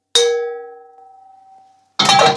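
A metal wok struck once gives a single loud metallic clang that rings out like a gong, its tone sustaining and slowly fading for nearly two seconds before a burst of other noise.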